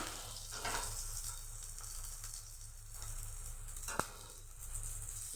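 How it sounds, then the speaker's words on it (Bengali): Pumpkin flower fritters fry in hot oil with a steady, close sizzling hiss that swells and eases, broken by one brief sharp crackle. "কুমড়ো ফুলের বড়াগুলো ভেজে নেব।"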